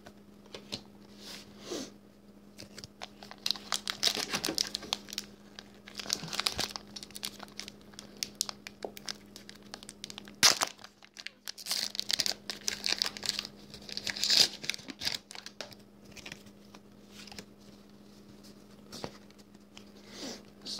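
Pokemon Evolutions booster packs are opened and their cards handled, giving continuous close crinkling and tearing of foil wrappers with quick card shuffles and flicks, and no talking.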